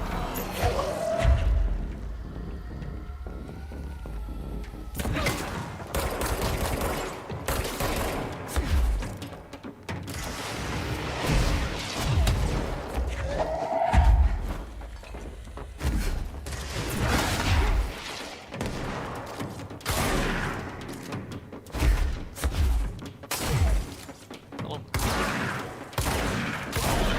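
Repeated gunfire bursts and thuds from combat in the video game Control, loud and dense throughout, with heavy low booms and crackling shots; a voice speaks briefly amid the fighting.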